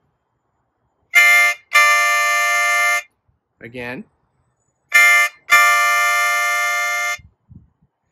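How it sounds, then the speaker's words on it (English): A harmonica played with inhaled breaths on holes 4 and 5 makes a train-like choo-choo, with two pairs of loud, sustained chordal blasts, one short and one long in each pair, separated by a brief spoken word. "go up to holes 4 and 5 and breathe in and go choo, choo."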